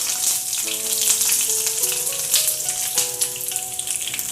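Curry leaves crackle and sizzle in hot oil with mustard seeds and fenugreek powder for mango pickle, a steady loud hiss with popping, with a faint melodic tone running underneath.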